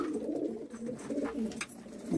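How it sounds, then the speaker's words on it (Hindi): Pigeons at a pigeon sale in Jammu coo in low, throaty rolling calls that overlap continuously from several birds close by, with no talk. "बड़े और बेहतरीन कबूतरों का एक से बढ़कर एक लाजवाब पिजन आए हैं"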